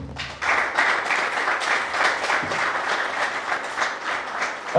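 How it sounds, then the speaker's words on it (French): A TV studio audience applauds loudly for a children's Italian-language teacher, a sustained wash of dense clapping that holds steady and close throughout. "Acclamez-la très fort."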